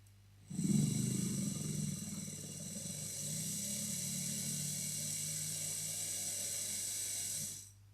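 A small drill bores into gold jewellery metal, starting with a rough grinding bite, then settling into an even high whine for several seconds before stopping.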